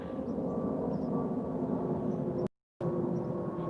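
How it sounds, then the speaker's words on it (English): A jet airplane passes overhead as a steady, fairly faint low roar and hiss, continuous apart from a brief cut to silence near the end. "Hear how quiet jets are now?"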